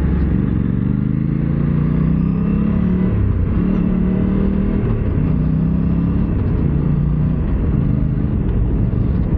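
Aprilia RS 457 motorcycle being ridden, its engine droning steadily and loudly with wind rumble, the pitch climbing and dropping in steps as it shifts up through the gears.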